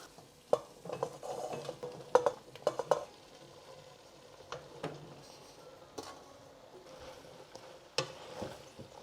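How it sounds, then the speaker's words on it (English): Mushrooms go into a masala spice mix in a pan, with faint sizzling and a series of scattered stirring scrapes and light utensil knocks against the pan, quiet and close. "Now I'm going to add the mushrooms."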